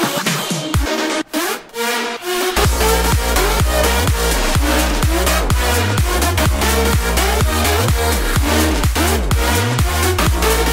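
Future bounce drop produced in FL Studio, with a loud pumping bass and bouncy synth hits in a steady dance rhythm after a brief filtered, choppy intro.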